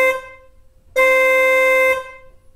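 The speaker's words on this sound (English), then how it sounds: "And let's compare that to the older horn." The old horn of a 2018 Tesla Model 3 sounds twice up close: a brief toot fading out, then a steady flat blast of about one second, a clear bright tone.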